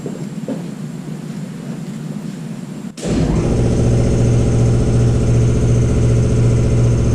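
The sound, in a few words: air compressor pumping up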